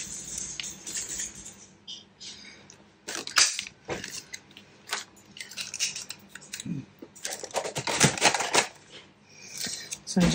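Scissors cut paper for a handmade envelope notebook, a close series of crisp snips and paper rustles in irregular bursts with quiet gaps between.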